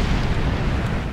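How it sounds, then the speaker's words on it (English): High-yield proton torpedoes launch in Star Trek Online as a dense, continuous roaring blast that fills the whole moment, loud and close, with no pauses and no voices over it. "Proton torpedoes, high yield! Fire!"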